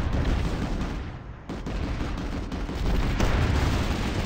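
A Black Hand mini sniper rifle fires in the video game Planetside 2 amid a loud, dense barrage of gunfire and booming blasts, with a brief drop partway through.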